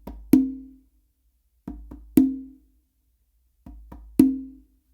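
Conga played in a modern funk pattern on a single drum: three phrases, each two quick light taps followed by a loud ringing open tone, close and alone.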